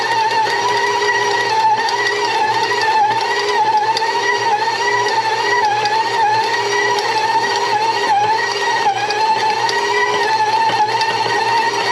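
A stand mixer's motor hums and whirs steadily as its dough hook kneads white bread dough in a bowl, a continuous close mechanical drone with no talking.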